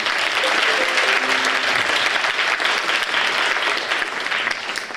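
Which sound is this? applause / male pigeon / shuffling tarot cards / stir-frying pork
applause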